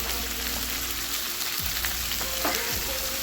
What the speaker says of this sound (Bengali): দিয়ে পেঁয়াজটাকে ভাজা ভাজা করে নেব।